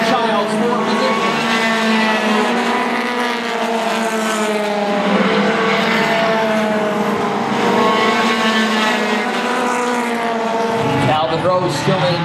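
Race cars roar around a short oval track at a Maine motorsports event, a loud continuous engine drone throughout with an announcer's voice talking over it and a sharp change near the end.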